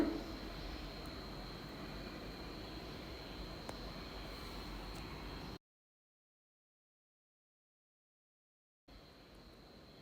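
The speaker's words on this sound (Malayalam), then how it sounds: "മുട്ടവെള്ളം നല്ല സ്റ്റിഫായി മാറുന്നത് വരെ നന്നായിട്ടൊന്ന് ബീറ്റ് ചെയ്യാം." An electric beater whips egg whites and sugar toward stiff peaks for an orange cake, giving a steady whirring drone that cuts off abruptly into silence before starting again briefly.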